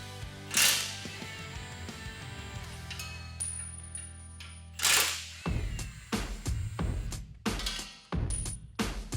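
Ratchet wrench loosening 21mm bolts on a Jeep Wrangler JL rear bumper bracket and tow hook assembly, giving several bursts of clicking and clanking metal with bright taps and scrapes, close up and with no talk.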